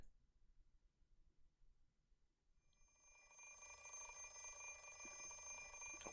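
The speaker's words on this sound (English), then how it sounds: "Something is ringing." An alarm clock rings in the Fate/Stay Night visual novel, starting suddenly after near silence and sounding as a sustained, shrill metallic ring that holds steady at moderate volume.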